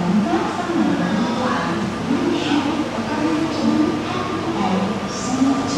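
A Rajdhani Express bound for Hazrat Nizamuddin pulls out of Madgaon on the Konkan Railway, a steady loud rumble with rhythmic clatter over the rails, heard close as though from on board, with voices talking underneath.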